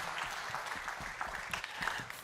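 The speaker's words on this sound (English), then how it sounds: "a warm round of applause, ladies and gentlemen" A conference hall audience applauds to welcome a speaker onto the stage, moderate and somewhat distant, a steady patter of many hands for a couple of seconds.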